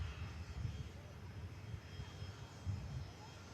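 An ATR 72 turboprop airliner on an Emerald Airlines flight to Dublin, heard at Manchester Airport as a steady, low engine rumble of moderate loudness, with a voice talking over it.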